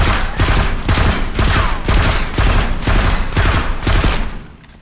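Rapid, loud gunfire from a rifle with the trigger held down in the Warzone video game, about eight evenly spaced bursts of shots in a row, close and dominant, fading at the end.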